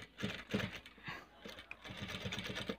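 A sewing machine stitches a cloth face mask in quick, rhythmic pulses of whirring and needle clatter, close and moderately loud, with a short pause midway.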